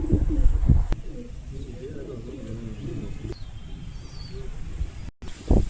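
Pigeons at a Dharwad pigeon tournament coo in low, rolling throaty bursts, close and fairly soft, with a brief sharp clatter near the start and someone talking in the background.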